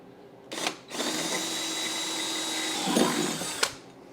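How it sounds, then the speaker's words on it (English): A power drill whines at a steady high pitch for about three seconds after a brief start-up burst, then cuts off, close and loud, drilling a hole in a 1964 Triumph TR4. "So we're gonna have to drill our own hole somewhere here."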